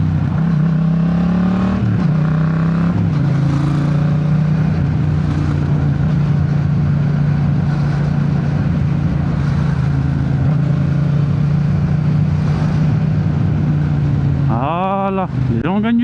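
Yamaha MT-07 motorcycle ridden through slow traffic, its engine droning steadily up close, with a brief rise in revs near the end as it pulls ahead.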